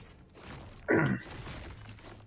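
A brief shattering crack as an object breaks apart in LEGO Fortnite, inside a cave, rising sharply and fading within a quarter second over a low background bed.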